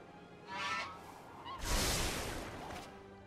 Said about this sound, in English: Gotta honk the goose every once in a while.